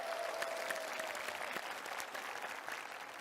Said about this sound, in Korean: 일단 여러분 호의한테 박수 한번 부탁드리겠습니다.